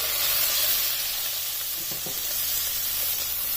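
Chopped tomato with garlic frying in a pan for mutton keema gives a steady, close sizzle and hiss, with faint stirring scrapes and no voices.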